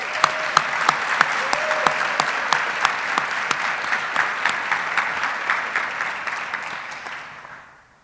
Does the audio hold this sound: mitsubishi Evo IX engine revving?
no